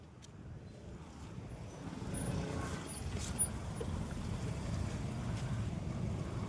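Heavy Saturday-afternoon road traffic in Kodambakkam, heard as a low, steady rumble of passing vehicles with some wind noise, fairly faint and building slightly as it goes on.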